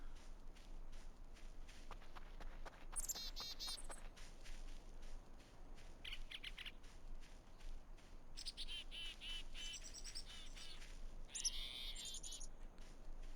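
Ambient birdsong in the Voices of the Void game world, faint scattered chirps and tweets in bursts over a quiet outdoor background with soft footsteps, no talk.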